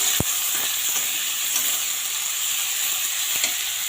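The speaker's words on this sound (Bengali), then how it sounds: "পেঁয়াজটা লাল লাল করে ভেজে নিয়ে আসি" Chopped onions, with crushed garlic, frying in a pan for dal with Malabar spinach, a constant strong hiss and sizzle with a sharp knock near the start and occasional stirring scrapes.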